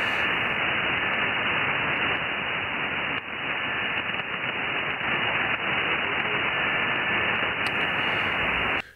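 Faint amateur radio voice from Ukraine buried in dense, steady hiss and static from a shortwave receiver, barely discernible throughout.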